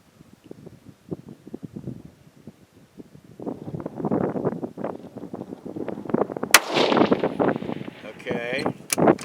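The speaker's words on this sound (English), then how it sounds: "3 shots at the blood bag." Three rifle shots cracked at a blood bag target on an outdoor range, each sharp report standing out amid wind buffeting and someone speaking between them, the final blasts louder and closer near the end.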